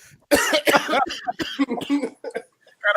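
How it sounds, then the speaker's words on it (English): A man coughs repeatedly on a sports talk show, a string of harsh, close bursts broken by short gaps and a throat-clearing rasp. "Oh, you're coughing."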